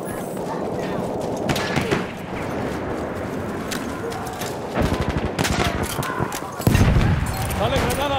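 Rapid bursts of machine gun fire rattle through a World War I battle in Battlefield 1 at Hellriegel 1915, with shots near and far amid booms and shouting voices over the chaos.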